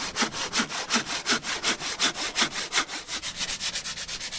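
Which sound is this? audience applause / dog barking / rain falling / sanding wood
sanding wood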